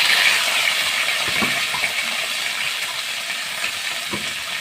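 A potato sizzling in hot oil, a steady close hiss of frying that eases slightly over time, with small pops and light clinks.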